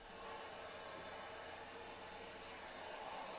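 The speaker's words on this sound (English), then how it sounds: "I woke the next morning to the sound of Mai's hairdryer" Hairdryer sound effect in the Asago Academy visual novel, a faint, steady airy whoosh running throughout without pause.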